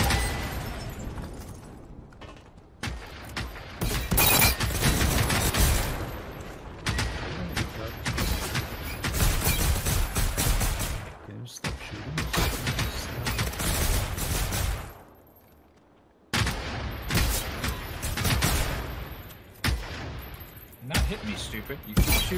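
Rapid bursts of gunfire in the video game Generation Zero, dense volleys firing in long stretches with brief pauses, loud and close, with a player's voice talking over parts of it.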